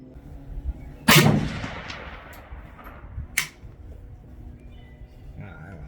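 A Romanian RPK fires at steel targets on an outdoor range: two loud, sharp shots a couple of seconds apart, each leaving a ringing tail, with quiet stretches between.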